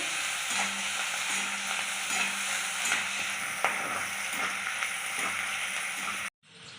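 Four whole garlic cloves fry in hot oil in a pan, giving a steady close crackling sizzle with small pops and light stirring scrapes for about six seconds before it cuts off abruptly, with no voices.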